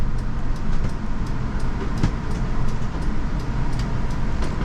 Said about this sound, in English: And then we just cruise along here through a residential area